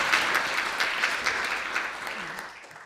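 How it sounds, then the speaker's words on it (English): An audience claps for the speakers at the close of a fireside-chat event, a dense burst of applause that fades out toward the end, with a voice faintly under it. "So please, one applause for all the speakers that contributed to this event."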